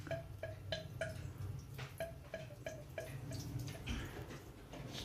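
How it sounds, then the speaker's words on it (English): Water drips from a Moen 1225 shower valve in a quick, irregular patter of small plinks, close by in a quiet, echoey room. "Once that finishes dripping, no more drip."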